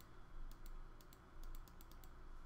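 Computer keyboard keys and mouse buttons clicking while someone plays The Sims 4 on a PC, with quick bursts of sharp clicks in uneven clusters, quiet and close, over a faint background hum.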